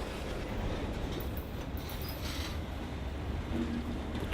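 Long freight train on a northern high line rolls past with a steady, dense low rumble and faint wheel squeal near the end, continuous and moderately distant with no voices.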